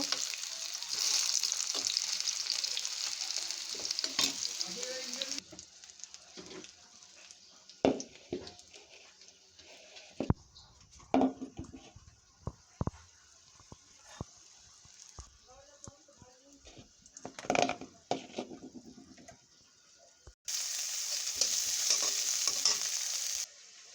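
Raw banana frying in a pan gives loud sizzling at the start and end, with a quieter middle stretch of stirring knocks and faint crackle.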